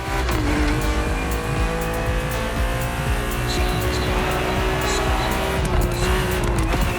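A BMW 3.0 CSL race car in a video game drives on a racetrack. Its engine holds a loud, sustained roar, with tire squeal and shifting pitch running through the whole stretch.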